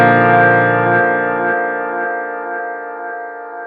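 Guitar through a digital delay, a Line 6 Helix compared with a Strymon Timeline, rings out as a sustained chord with its high cut adjusted, the tone settling and fading slowly with delay repeats trailing behind, no voices.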